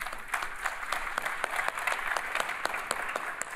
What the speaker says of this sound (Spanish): un aplauso para ustedes primeros